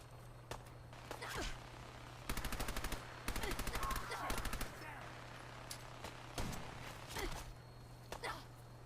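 Enemy gunfire aimed at the player in Fallout 4: rapid automatic bursts of shots in several rattling strings, with scattered single cracks before and after, over a steady low hum.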